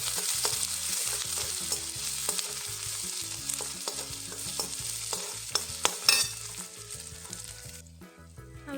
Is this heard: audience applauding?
no